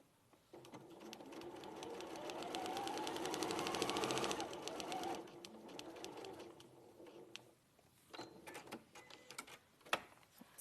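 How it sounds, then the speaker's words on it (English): A sewing machine stitches down fabric in one long, rapid, rattling run. It swells in loudness, then slows and stops, and a few clicks and handling sounds follow. "So again, I'm just going to stitch down that."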